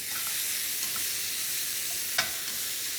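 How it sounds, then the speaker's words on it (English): Meat sizzling and frying in a pan for a Guinness pie filling, a steady close hiss with a few small pops and stirring clicks, no talking. "I like this frying bit."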